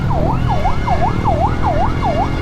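An ambulance siren wails on a city street, a steady repeating up-and-down yelp cycling about every third of a second, loud and close over low road rumble with no talk.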